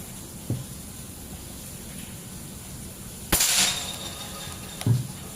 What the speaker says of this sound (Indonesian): Kita akan tembak dulu target metalnya yang bagian tengah untuk tes akurasi